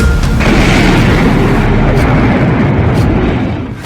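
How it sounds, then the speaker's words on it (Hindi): A loud, rumbling blast with a dense low roar that fills the whole clip and sustains heavily before easing slightly at the end. "इस धमाके पर जेलेंस्की के नए ऑर्डर की छाप लगी हुई है"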